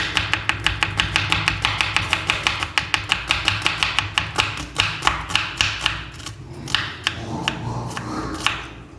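A knife slices onions for Ambur mutton biryani, heard as a fast, steady run of close, crisp chops on a board that slows and grows uneven toward the end.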